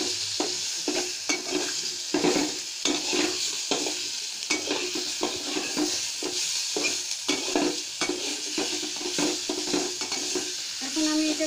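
Pumpkin peel being stirred in a frying pan, with a steady sizzle under repeated scraping strokes of the spoon at close range, with no voices.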